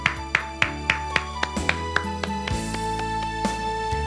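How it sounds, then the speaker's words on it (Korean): A congregation at a Korean Wednesday church service applauds in brisk, regular claps that blend into a denser patter, over sustained keyboard tones. "우리 하나님께 감사의 박수 드리겠습니다"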